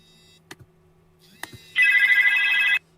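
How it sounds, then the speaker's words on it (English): A telephone rings once in a steady electronic trill of about one second, preceded by a couple of faint clicks over a low background hum. "there goes phone calls"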